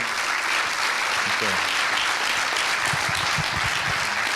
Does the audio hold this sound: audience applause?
yes